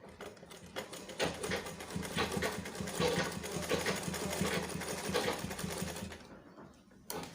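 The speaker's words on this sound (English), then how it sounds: "the next thing I'm going to do is to sew around my collar 4 like that" A sewing machine runs steadily, stitching a short line around a shirt collar for a shirt dress, its fast rhythmic clatter continuing close and loud for about six seconds before stopping.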